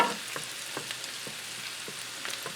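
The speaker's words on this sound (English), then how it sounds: "So you just want to melt your butter down, and while that's melting" Butter melts in a skillet as the first step of a roux for a cheesy sauce, giving a quiet, steady sizzle with faint scattered crackles and pops throughout and no talking.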